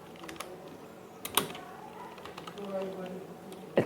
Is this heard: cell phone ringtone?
no